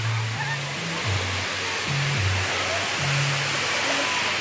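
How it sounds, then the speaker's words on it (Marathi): A small waterfall near Pune gives a steady, close rush of falling water that fills the whole clip as a continuous broadband roar, with faint murmuring underneath. "छोटे छोटे धबधबे पण आहेत त्या साईडला आहे एक धबधबा"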